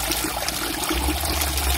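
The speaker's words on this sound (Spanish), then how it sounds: "apenas llegamos nos recibe este ojo de agua que aprovechamos para beber" Spring water at an ojo de agua near the Inca site of Vischongo, Ayacucho, Peru, trickles and splashes in a close, steady wash of sound with no pause.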